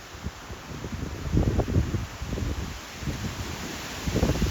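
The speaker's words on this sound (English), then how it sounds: "Can you hear the wind?" Gusty outdoor wind roars steadily in the open air with soft, irregular rustling of leaves, swelling and easing in loudness across a few seconds with no voices.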